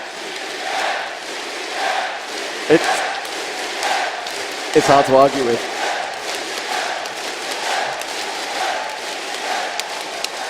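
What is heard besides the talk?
tournament crowd cheering for a team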